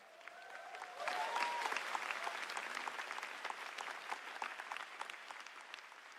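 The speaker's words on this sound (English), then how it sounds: "Everybody give a round of applause to my mom and dad." Audience applause fills a large keynote hall at GTC Taipei 2026, a dense, steady wash of clapping that swells after the first second and carries on at an even level.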